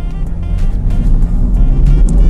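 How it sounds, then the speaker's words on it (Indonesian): A Land Rover Defender P400 SE with a 2000 cc four-cylinder engine pulls hard under acceleration, giving a loud, steady low rumble heard close up from inside the vehicle with no talking. "gue akan coba sekarang untuk impresi untuk ngerasain tarikan dari mesin ini"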